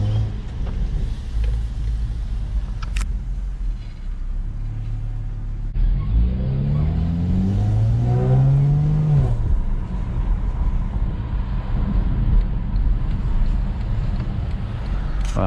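An Acura TL SH-AWD with a crackle tune revs in sports mode, its engine rising and falling in a loud, close rumble with a sweeping rev climb in the middle and steady drone afterward.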